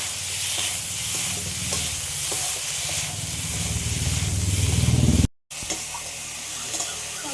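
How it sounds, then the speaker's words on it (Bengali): Chili powder and ginger paste fry loudly in a pan, a dense continuous sizzle with scraping stirs that cuts out briefly and then resumes just as strongly. "অল্প করে একটু লঙ্কার গুঁড়ো দিয়ে দেবো আদা বাটা একটু ভালো করে ভেজে নেবো"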